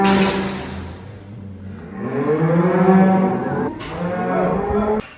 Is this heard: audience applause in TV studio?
no